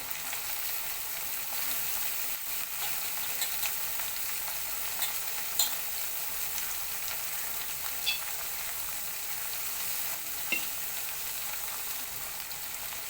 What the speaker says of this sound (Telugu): గంట ముందే నానబెట్టుకున్న శనగపప్పు కూడా వేసిద్దామండి